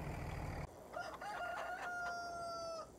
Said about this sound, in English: hello to you two chickens